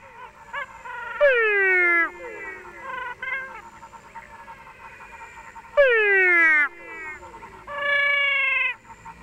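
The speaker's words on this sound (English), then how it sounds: "In a second, you'll hear and see the other frogs start to call." Physalaemus albonotatus frogs and another frog species calling together at night in Paraguay: loud, close, whining calls that slide downward in pitch, repeated in bursts and overlapping, with quieter chirps between them and no voices.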